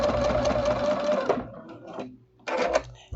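A sewing machine stitches a fabric bowl cozy with a steady, close mechanical whir, pauses briefly, then starts again for a second short run.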